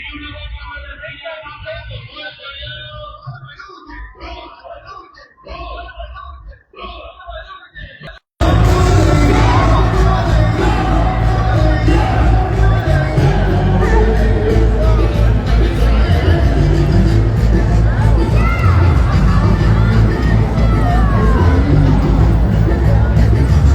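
A crowd at the Dominican Day Parade in New York City starts as a quieter murmur of voices with shouts, then abruptly swells into a loud, dense, continuous roar that holds steady to the end.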